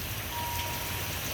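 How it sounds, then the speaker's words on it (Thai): Heavy rain pours down steadily in Kanchanaburi, a dense, loud, unbroken hiss of drops striking surfaces with no voices over it. "อันนี้ฝนตกหนักนะครับ ที่กาญจนบุรีนะ"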